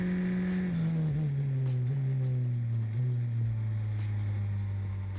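Race car engine during the Grand Prix Explorer race, loud and close, droning steadily with its pitch sagging through a couple of brief shifts before holding level.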